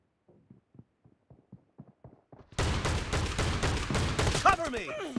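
PUBG team deathmatch gameplay: a few faint, sparse pops give way halfway through to a loud, dense burst of sustained automatic gunfire that continues to the end.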